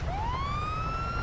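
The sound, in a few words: police car siren in video game GTA 5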